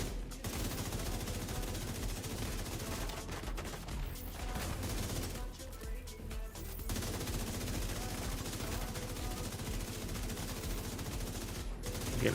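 Gunfire in the shooter video game The Division 2 rattles in dense automatic bursts, with a few brief lulls between sustained volleys of shots.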